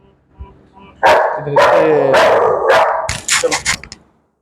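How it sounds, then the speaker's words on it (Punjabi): Dogs kept at a house bark loudly and close, a burst of several overlapping barks and yips that tapers into shorter ones before stopping. "ਉਹਨੇ ਡੌਗ ਰੱਖੇ ਆ ਆਵਾਜ਼ਾਂ ਆ ਗਈਆਂ ਹੁਣ ਤੁਹਾਨੂੰ ਸਾਰੇ"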